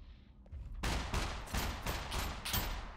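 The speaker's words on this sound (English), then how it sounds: "who's he shooting at? He's not even shooting at us." Enemy gunfire in the SCUM survival game, about six sharp shots in a steady, fairly quick rhythm, loud and close-sounding, with no talking.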